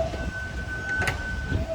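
Blackpool tram number 700 approaching a tram stop, a steady rumbling roll with a faint sustained whine and a brief clack midway, moderately distant and without talk.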